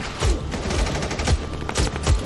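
Gunfire in a film battle scene, a rapid series of sharp, booming shots in irregular bursts, loud and continuous with no talk.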